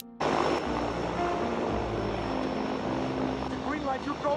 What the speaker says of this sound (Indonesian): salah satu pesawat yang hampir lepas landas